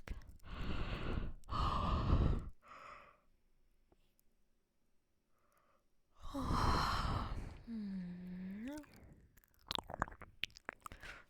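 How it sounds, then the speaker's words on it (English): A person yawns and breathes heavily up close: long breathy exhales and sighs, a pause, then a drawn-out yawn with a voiced rising-and-falling glide, followed by small mouth sounds. "Sorry, I keep yawning."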